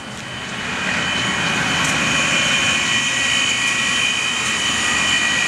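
A closed-loop wash rack machine with its burner firing gives a loud, steady roaring drone that swells up within the first second and holds evenly, close by with no voices.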